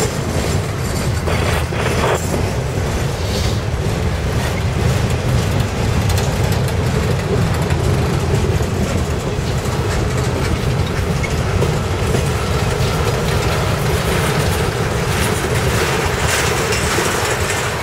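A CSX freight train led by a rebuilt EMD SD40-3 locomotive rolls past close by, a loud, steady rumble with continuous clickety-clack of wheels on rail and faint squealing throughout, with no talk.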